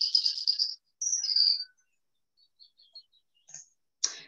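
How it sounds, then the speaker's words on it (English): Yellowhammer song on farmland: a few bright, high-pitched chirpy phrases, with a run of fast notes and then shorter scattered calls, heard fairly close with no talk. "So that is the song of the yellow hammer."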